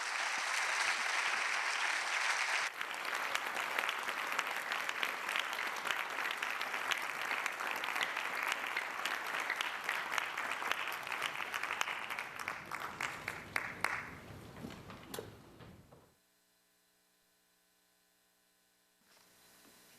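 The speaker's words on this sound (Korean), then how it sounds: "열화와 같은 박수로 황창규 회장님을 맞이하겠습니다" A university engineering college audience at a 60th anniversary special lecture applauds to welcome former KT chairman Hwang Chang-gyu. The clapping is dense and sustained for about fifteen seconds, then tapers off and falls to quiet room hum.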